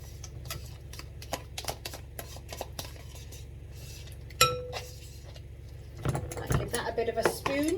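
A fork stirs and breaks up egg and cottage cheese in a bowl, giving repeated light clinks and taps against the dish, followed by a sharper scrape and a denser burst of clattering near the end.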